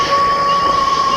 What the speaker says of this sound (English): the streets empty except for the distant hum of a train